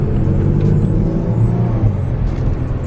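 A 2016 Range Rover HST engine hums as the car drives, a loud, steady low rumble with a smooth whir on top, heard close from inside the vehicle.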